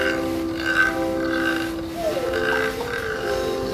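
Snoring in a children's story, voiced by a person imitating it: a few rough, rhythmic, grunting snores in close succession, loud and near.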